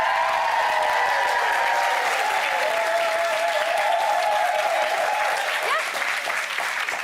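A studio audience on a daytime TV talk show claps and cheers steadily at close range, a dense, sustained wash of applause with whoops on top that eases slightly near the end.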